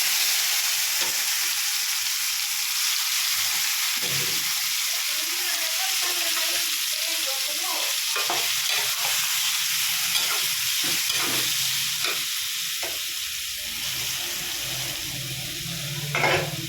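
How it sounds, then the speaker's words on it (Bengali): Marinated food sizzles in hot oil in a karahi, a constant frying hiss broken by spatula scrapes and stirring clatter, with a voice briefly audible under it. "মাখাই লাইছি সব কিছু দিয়ে কড়াইতে দিয়ে দেবো"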